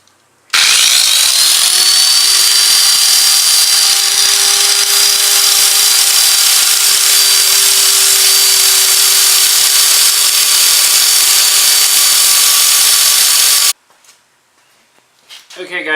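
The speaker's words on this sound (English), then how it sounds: "We're going to grind off 2 of these rivets" An angle grinder whines loudly and continuously while grinding off rivets on a Yamaha FZ6 motorcycle chain, holding a high steady pitch for about thirteen seconds before cutting off abruptly.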